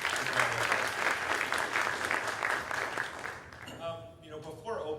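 An audience at a community engagement summit claps in sustained, dense applause that fades after a few seconds as a voice begins speaking.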